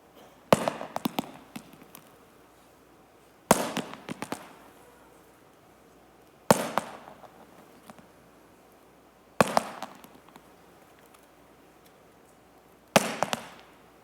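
Rocks dropped onto the ground one at a time, five separate sharp clattering impacts spaced about three seconds apart, each with a short rattling tail, fairly close in an otherwise quiet space.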